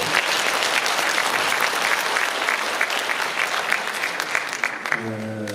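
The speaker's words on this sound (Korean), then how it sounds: "박수 쳐주겠습니다" Sustained audience applause at a Pocheon city citizens' festival celebrating the Dobongsan–Pocheon rail line, a dense steady clapping wash that fills the space, with a tonal sound entering near the end.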